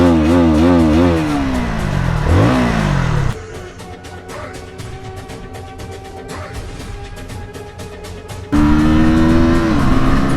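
KTM Duke 160 motorcycle engine revving hard nearby, the loud engine note sweeping up and down in repeated bursts with a steadier, rougher stretch in the middle.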